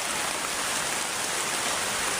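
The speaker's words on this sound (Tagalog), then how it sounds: "tumigil tong ulan kasi grabing lakas" Heavy rain pours down in the mountains, a dense, loud, unbroken hiss of drops hitting surfaces with no pauses and no voices.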